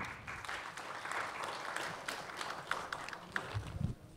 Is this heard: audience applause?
yes